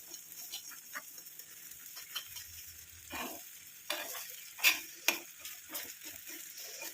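Gooseberry hair oil simmers in a pan, giving a soft, steady sizzle and bubbling with a few sharper clinks and stirring scrapes near the end.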